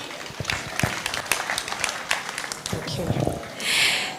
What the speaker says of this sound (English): A round of applause for all our speakers once again.